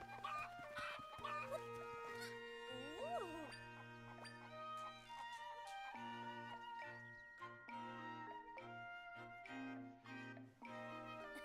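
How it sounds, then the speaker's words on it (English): Cuccos cluck and squawk in Zelda: Ocarina of Time, woven into bright, jingly game music with chiming notes, fairly quiet throughout. "Cuckoo's on the loose."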